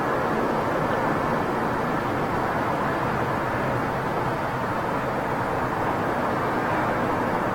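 A Boeing 777 sits with its jet engines idling at Heathrow Airport, producing a continuous, even rumble and whoosh that holds steady throughout without talk.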